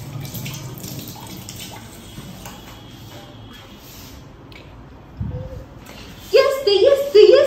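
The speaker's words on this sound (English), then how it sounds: "let me wash my hands" Running tap water splashes over hands being washed in a home kitchen, a steady soft wash under background voices, then louder splashing bursts near the end.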